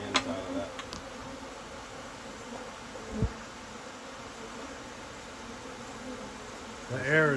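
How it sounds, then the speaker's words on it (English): A swarm of honeybees fills the air during a hive cutout, a steady close buzzing drone throughout, with a brief voice and a few knocks breaking in. "The air is just alive with bees right now. Oh, it's a buzz in the air."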